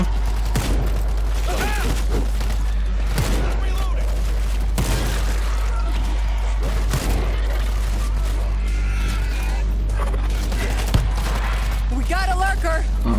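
Bursts of gunfire in World War Z crack repeatedly over a steady low hum, with scattered sound effects and a voice briefly speaking.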